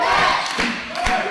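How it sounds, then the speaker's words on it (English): Basketball fans in a college gym cheer and shout loudly for their team's defense, a roaring crowd with a couple of thumps from the court underneath. "SVU fans cheering for the defense"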